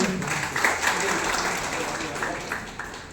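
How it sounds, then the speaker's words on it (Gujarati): An audience at a Limbach community gathering claps to welcome guests, a sustained burst of applause from a crowd with a voice speaking over it. "આપણે સૌ તાળીઓથી વધાવી લઈએ મહેમાનશ્રીઓનો"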